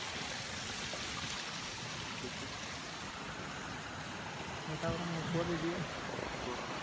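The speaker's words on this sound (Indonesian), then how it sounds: "Ada sungai di situ." A river runs near a goat pen in a garden at Pacet, Bandung, giving a steady, rushing wash of flowing water heard fairly close, with people talking over it toward the end.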